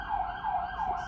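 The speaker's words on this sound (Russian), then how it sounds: "Милиция едет. Скорая." An ambulance siren passes outside, a steady wailing tone that rises and falls at moderate distance, heard alone over low traffic rumble.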